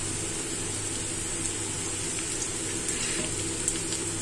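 Chopped garlic and a bay leaf frying in oil give a steady, close sizzle that stays constant, with faint stirring clinks under it and no talk.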